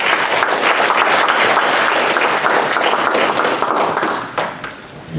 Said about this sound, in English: give some round of applause